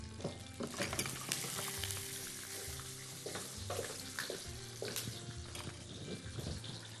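Peppers soften and fry in a pan, a continuous crackling sizzle mixed with scraping and stirring clatter, moderately close and fairly quiet overall.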